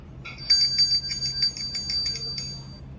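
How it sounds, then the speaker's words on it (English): A bright bell rings rapidly with a trilling, shimmering tone for about two seconds, fairly close, over faint background hum. "And this is the sound of the bell."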